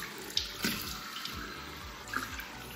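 Tap water running into a sink while a face is washed, a steady close splashing stream broken by a few louder splashes and hand movements, with no talking.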